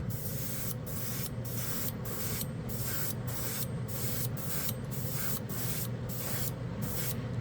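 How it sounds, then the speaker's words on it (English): Airbrush steadily spraying Gravity USA chrome paint, a continuous close hiss pulsing in short regular bursts as the trigger works, with no talking. "This airbrush is great. This thing will push anything."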